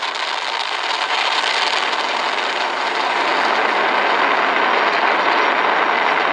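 Steady, dense roar of a SpaceX Falcon 9 rocket climbing during a crewed Dragon launch about 20 seconds into flight, a continuous broadband rumble heard from a distance with no breaks.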